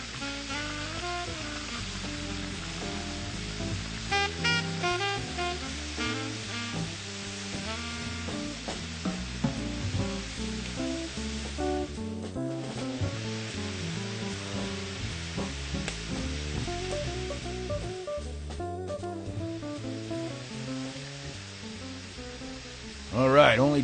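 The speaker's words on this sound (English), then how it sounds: "Listen to these oysters fry up in this corn oil." Oysters sizzling steadily in hot corn oil, a continuous crackling fry that runs throughout beneath prominent background music and some voice.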